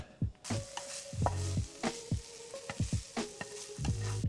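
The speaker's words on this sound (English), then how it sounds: "while our jalapenos and ham are cooking" Jalapenos and ham cook in a hot skillet for an omelette, sizzling steadily close by while a utensil repeatedly scrapes and taps against the pan in short bursts.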